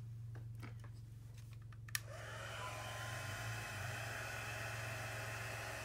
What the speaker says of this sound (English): when you're using a heat tool, you can easily blow the ink or the wet paint into a different area